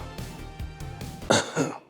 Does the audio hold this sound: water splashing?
no